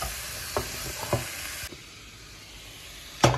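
A spoon scrapes and knocks as vegetables with malt vinegar are stirred in a pan, with a few sharp clatters over a hissing sizzle that fades midway. A final loud scrape comes at the end.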